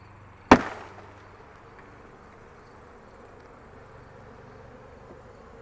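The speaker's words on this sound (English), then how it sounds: "So I'm going to go ahead and knock the frame into the tub." A single sharp thud as a beehive frame is knocked into a tub, followed by a faint, steady hum of bees buzzing in the background.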